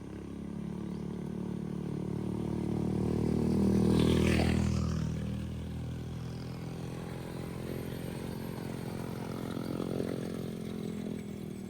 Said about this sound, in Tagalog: Kasi yung motor nila, sobrang hirap paandarin talaga niyan.